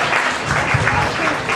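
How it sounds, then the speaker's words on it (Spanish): Dense applause from an audience welcoming an archaeologist to a lecture on the history of San Pedro Atzompa, a steady wash of clapping with no gaps, close and fairly loud. "fuerte el aplauso para recibirlo"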